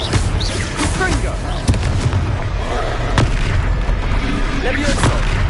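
Fiery Confringo spell blasts in the Hogwarts Legacy wizard video game, several sharp explosive bursts over a dense, loud battle soundscape with continuous rumble and game speech.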